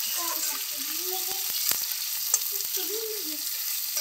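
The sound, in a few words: potatoes frying in a pan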